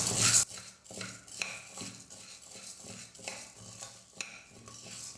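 Urad and chana dal dry-roasting in a pan, a spoon scraping and stirring in irregular strokes with soft rustling of lentils between them, close and moderately quiet, preceded by a brief louder burst at the start.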